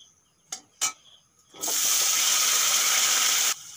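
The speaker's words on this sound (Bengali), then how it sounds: "গরম হয়ে গেছে, আলুগুলো দিয়ে দেব।" A few light clinks, then potatoes dropped into hot oil in a kadai burst into a loud, steady hiss that runs for about two seconds before cutting off, close up with no talk.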